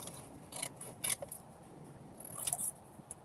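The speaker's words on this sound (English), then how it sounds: "I want you to cut out a rectangle" Scissors snip through paper to cut out a rectangle for collage work, a few quiet, close crisp cuts and rustles in near silence.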